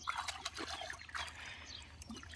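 Water trickles and dribbles softly into fish feed made with egg yolk and mustard oil as it is mixed, a faint, brief liquid sound.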